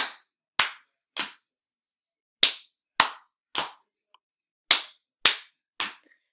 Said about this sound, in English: I'm going to go clap, clap, pat.